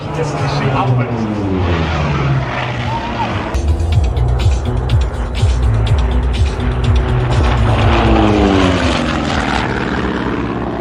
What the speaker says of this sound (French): Là, on est sur une E46 M3 posée sur des moon boots et sur des énormes skis.